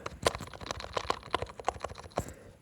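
Quiet clicking of keyboard keys close by, irregular taps in a quick, uneven rhythm with some keys louder than others.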